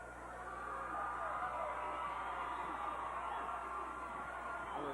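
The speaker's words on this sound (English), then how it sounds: "Of course, you wonder why the crowd's hollering." A 1996 varsity boys basketball crowd in Opp and Elba, Alabama, hollers and cheers as a steady roar of mixed voices. The yells and whoops fill the gym continuously, heard from a moderate distance.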